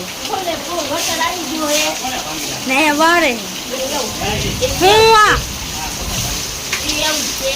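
Steady heavy rain hisses throughout while people talk over it, voices rising in short exclamations near the middle.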